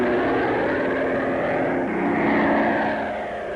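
WWII propeller planes flying, a steady loud drone of piston engines and airscrews that holds throughout with a slight swell and then eases toward the end, with no voices.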